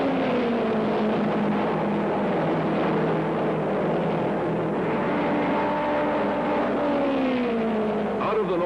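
Indy cars and Jaguar race cars roar through the north turn, a dense, loud wash of engine noise with pitches sliding as the field sweeps past continuously.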